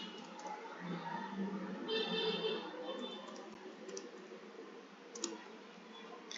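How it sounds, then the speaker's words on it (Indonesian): Light computer keyboard typing, an ipconfig command tapped out as a quiet run of soft, irregular key clicks with a sharper click near the end. "saya akan mengetikkan perintah ipconfig"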